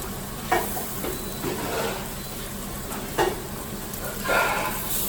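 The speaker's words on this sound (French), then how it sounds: "Et on va les laisser rôtir un petit peu comme ça." Pears roasting in foaming butter in a pan, seasoned with a little salt and pepper, give a steady soft sizzle and hiss with a few louder bursts of spattering and stirring, close by and with no talking.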